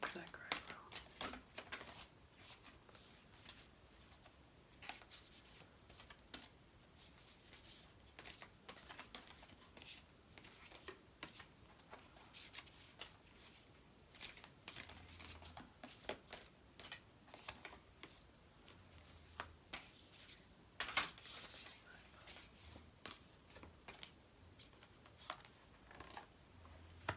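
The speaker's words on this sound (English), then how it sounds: "Where should I put my energy? Into shuffling these cards apparently, because I'm not used to them, they're so big." Large oracle cards being shuffled in a quiet indoor setting, a steady run of soft, close riffling and tapping bursts throughout, with a person talking quietly over it.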